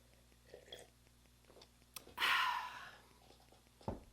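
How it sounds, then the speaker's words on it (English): A quiet, close slurping sip lasting under a second, surrounded by faint clicks and small handling sounds, ending with a soft thump. "Sipping on my coffee."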